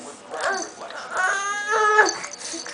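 A frustrated dog whimpers and whines in a rising, drawn-out, squeaky tone, close by, in a couple of pitched yips and moans over a few seconds.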